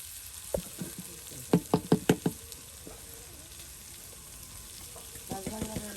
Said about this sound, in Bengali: আর এই যে দেখুন পেঁয়াজ ভুনা, মাছের সাথে পেঁয়াজ ভুনা